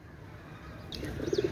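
Golden pigeons kept for sale coo in short, soft, low bursts close by near the end, after a quieter stretch with faint background chirping.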